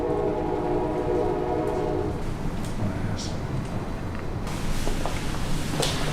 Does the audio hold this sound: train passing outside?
yes